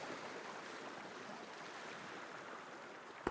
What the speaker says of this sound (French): Vous pouvez entendre le son des vagues, calmes, qui vous bercent au rythme du roulis de celle-ci.